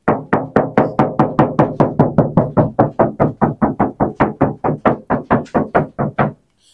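A rapid, steady run of about twenty-five close knocks on a Toyota Innova Zenix Hybrid door fitted with sound deadener, each a short muffled thump, alone until a sudden stop.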